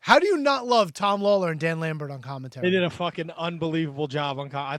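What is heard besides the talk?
No distinct noise like a dog, phone or traffic.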